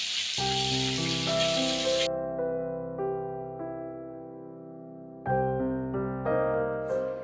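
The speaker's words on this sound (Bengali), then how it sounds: "তো আমার কাঁকড়াগুলো ভাজা হয়ে গেছে" Cleaned crabs fry in hot oil with a bright, dense sizzle for about two seconds. Loud music plays underneath, then carries on alone once the hiss stops.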